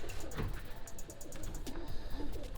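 Roller pigeons coo softly in a breeding cage in winter, a few low rolling coos close by against faint background noise.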